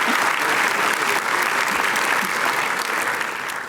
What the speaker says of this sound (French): on applaudit déjà